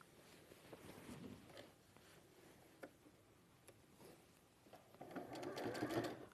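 A sewing machine back stitches a fabric panel, giving a soft, fast mechanical whirr with light ticking. It is near and quiet, in short runs that grow louder toward the end, and no one talks.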